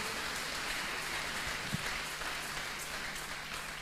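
A church congregation applauds in a dense, even patter of clapping that carries on steadily at moderate volume, with no voices standing out.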